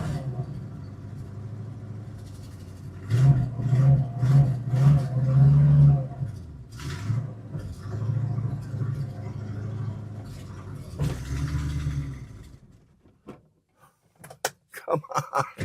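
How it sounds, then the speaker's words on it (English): A 1964 Ford Mustang engine runs at a high idle, a loud, close, steady rumble with some surging, interrupted by a door-like clunk and ending in sharp knocks and rattles. "That's an idle. That's an idle. I'm not touching the gas. It's a high idle."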